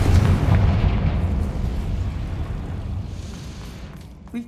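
A Confringo fire spell blast in Hogwarts Legacy: a heavy, deep rumbling explosion that starts loud and slowly decays over several seconds, ending with a small thud.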